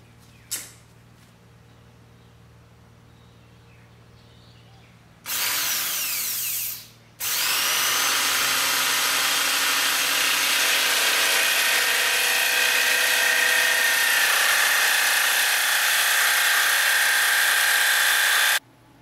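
Dremel rotary tool cutting windows into computer case side panels: a short high-pitched grinding burst, a brief pause, then a long, loud, steady whine that runs without talk.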